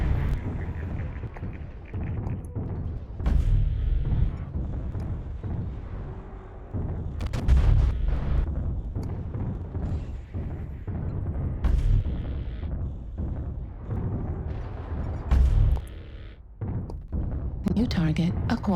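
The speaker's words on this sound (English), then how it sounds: "Incoming missile." Incoming missiles strike and explode in a mech combat video game: repeated heavy booming blasts every few seconds with rumbling low-end, mixed with radio-style voices and continuous battle noise.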